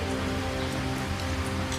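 Cold-weather rain falls steadily, an even patter of drops on surfaces close by, with a low constant hum underneath and no voices.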